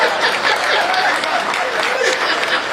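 A crowd at a live storytelling event breaks into applause, a dense continuous clatter of many hands with a few voices and chuckles mixed in.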